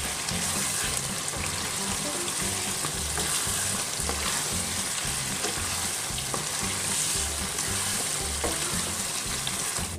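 Potato keema fries and sizzles in a pan while a spoon mixes in fresh coriander, producing a dense, steady hiss with repeated scraping strokes, loud and close throughout.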